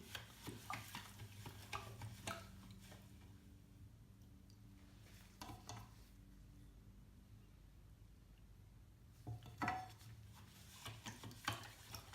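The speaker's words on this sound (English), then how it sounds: "We'll take our professional stirring stick" Epsom salt being stirred with a stick into a car battery's electrolyte, soft scraping and swishing strokes with a low steady hum underneath, quiet and close.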